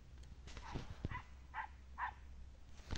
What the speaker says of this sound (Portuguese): Acorda, o cachorro tá acuado.